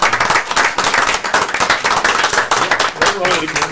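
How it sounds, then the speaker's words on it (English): Steady applause from a small group at a county commissioners' board meeting, with brisk hand claps close by and a voice briefly audible underneath. "The board applauds"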